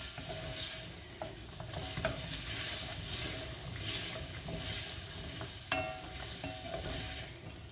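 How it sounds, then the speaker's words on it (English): Broccoli soup vegetables seasoned with salt and pepper are stirred in a pot, giving a quiet, continuous scraping and soft sizzle with occasional light clicks of a utensil against the pot. "So stirring that around, get that all coated."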